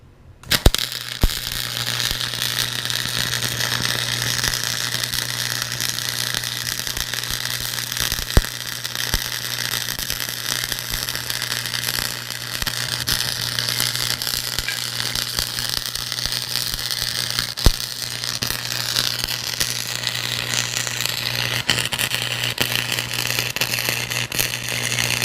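Cheap Harbor Freight wire welder laying a bead on steel, giving a continuous harsh crackling buzz with occasional sharp pops, steady and close for the whole stretch.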